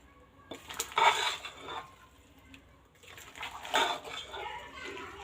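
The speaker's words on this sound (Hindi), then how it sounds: "और अब हम इसको मिक्स कर लेंगे।" Wet clattering and scraping of a spoon mixing Russian salad in a bowl, two bursts of stirring with a brief pause between, close and fairly soft.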